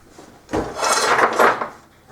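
A metal pan is grabbed and handled during generator fuel-line work, giving a close, clattering scrape and knock that runs for about a second and a half with no talking.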